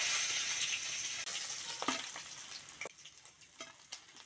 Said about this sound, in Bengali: পাটি মাছগুলো এরমভাবে লাল লাল করে ভেজে নেব